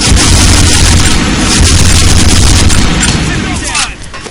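Loud, dense gunfire and booming explosions from a video game's battle, a continuous barrage of shots and blasts that fades slightly near the end.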